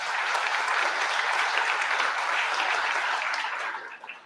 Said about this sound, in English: So let's give Jaira a round of applause.